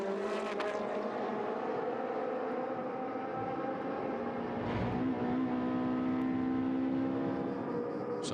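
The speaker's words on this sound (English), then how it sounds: "Then it's Roca, Gosner, Di Bernardi before we see that car of Nicolas Sturzinger." Race cars compete in a 2015 Trofeo Pirelli race at the Paul Ricard circuit, heard as a fairly faint, steady engine drone whose pitch shifts and rises near the middle.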